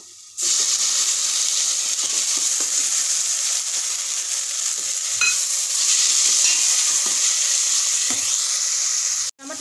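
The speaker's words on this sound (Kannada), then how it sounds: "ಈರುಳ್ಳಿ ಸ್ವಲ್ಪ ಫ್ರೈ ಆದಮೇಲೆ ಎರಡು ಸಣ್ಣಗೆ ಹೆಚ್ಚಿರುವಂಥ ಎರಡು ಟೊಮೆಟೊ" Onion and finely chopped tomatoes fry in a pan, giving a steady, loud, close sizzle that runs unbroken with a few faint stirring knocks beneath it.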